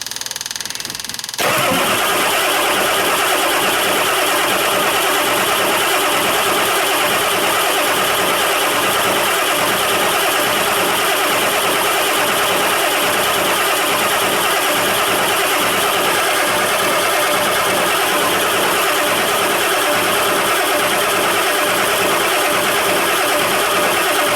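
A 7.3 IDI diesel engine cranks on its starter, a loud, steady, rhythmic churning that begins abruptly after a brief quiet moment and continues unbroken without catching.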